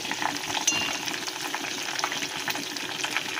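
Hibiscus leaves fry in a pan with a soft continuous sizzle and light crackles, stirred now and then, heard close and without talk.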